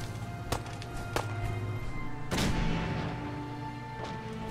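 Distant gunshots and a heavier boom from a Fallout 4 firefight, with scattered single shots followed by a larger blast that rumbles and fades, all fairly faint against a steady background hum.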